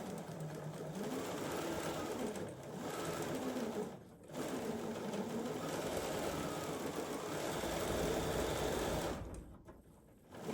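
Sewing machine stitching a quarter-inch seam on a sawtooth star quilt block, a steady continuous whir that runs almost throughout, with brief pauses around the fourth second and near the end.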